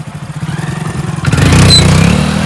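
A motorcycle engine idles with a rapid low thumping, then swells into a louder, steadier roar as it revs, close by.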